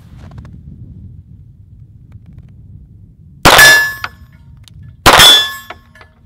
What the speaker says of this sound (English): Let's finish out the Glock mag.